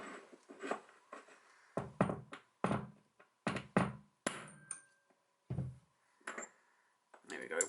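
A Hope 24mm BSA bicycle bottom bracket bearing being hammered out, sharp metallic knocks in irregular bursts of two or three close blows separated by short pauses, with someone talking faintly in between.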